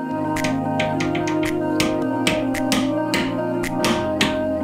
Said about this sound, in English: And I hear it cracking.